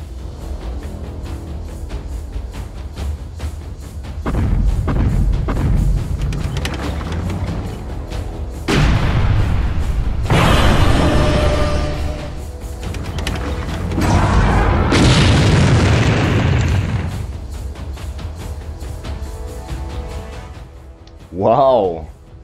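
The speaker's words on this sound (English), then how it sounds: "Yes, those explosions are stickers in my Video Guru Premium app." Several loud, rumbling explosion sound effects from a video-editing app boom one after another, each lasting a few seconds, with a voice talking in between.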